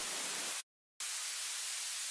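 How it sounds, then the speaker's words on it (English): Synthesized white noise from Ableton Operator plays as a steady, bright hiss, stopping for about a third of a second before resuming at the same level. "white noise. I'm gonna do that with operator"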